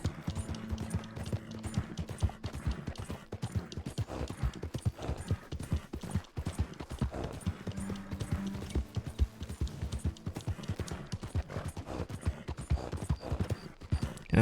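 Horse hooves clip-clopping steadily in Red Dead Redemption 2 as the rider travels through mountain country toward Rhodes, a continuous close rhythmic gallop with an occasional faint whinny and music-like tones underneath.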